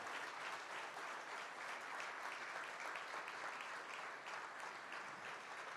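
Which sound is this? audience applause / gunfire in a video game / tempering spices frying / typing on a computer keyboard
audience applause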